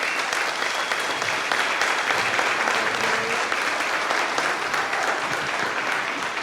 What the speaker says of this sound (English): let's give Charlie Schenkel a big round of applause